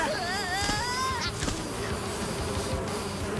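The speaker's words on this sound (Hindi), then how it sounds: "इतना मीठा क्यों बोलते हो गन्ना कि चींटियां और मधुमक्खियां आ जाती है" Cartoon bees buzz in an animated kids' show, a warbling, wavering whine at the start that settles into a steady busy drone of insects, close and fairly loud throughout.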